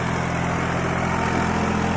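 A New Holland 3600-2 50 HP tractor pulling an 8x8 harrow through a field, its engine a steady, dense drone that stays loud and close throughout with no talking.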